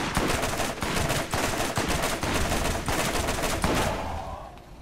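Gunfire from the video game Borderlands, aimed at a Skag. Loud, dense rapid shots fire in continuous bursts and fade out near the end.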